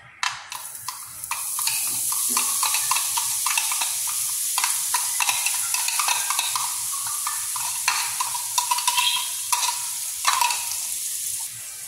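Onion and garlic sautéing in a light coat of olive oil in a skillet, with a constant loud hissing sizzle and frequent clattering scrapes of a spoon stirring against the pan, close up and without voices.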